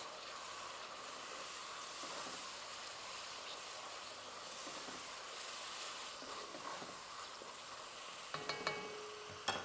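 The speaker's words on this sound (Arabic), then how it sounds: "وحضيف الطماطم وهالمكونات حقلبها مع بعض" Tomatoes and other ingredients fry in a pan with a soft, steady sizzle and hiss, faint and continuous, with a few sharp utensil clicks near the end.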